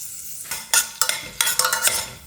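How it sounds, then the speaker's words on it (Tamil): Fennel seeds sizzling in a hot frying pan while a utensil stirs and scrapes, giving a crackling fry broken by several sharp clinks and scrapes against the pan, close and loud. "ஸோ இவ்வளோ ஃபெனல் சீட் எடுத்துட்டேன்னா இப்போ இதை நம்ம வந்து போட்டுடலாம்"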